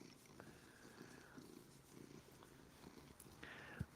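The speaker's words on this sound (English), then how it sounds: "You hear him purring?" A cat purring softly up close, a low continuous rumbling that pulses gently and steadily throughout.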